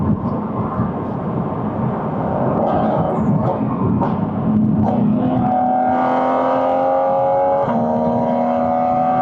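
A Porsche 718 Cayman GT4 RS flat-six revving toward 7,000 RPM, heard from inside the car as a loud, steady engine roar whose pitch climbs in stages, with gear changes and no talking.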